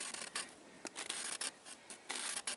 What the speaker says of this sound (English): you just get that scraping going